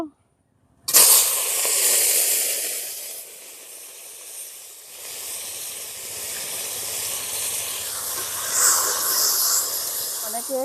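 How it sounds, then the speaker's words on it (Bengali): Crab sizzling as it fries in hot oil in a wok, a loud hiss that bursts in after a brief silence, dips for a moment, then settles into a steady crackling sizzle. "আরো কড়াইতে তেল দিয়ে দিয়েছি আমি কাঁকড়াটা ভালো করে ভেজে নেবো"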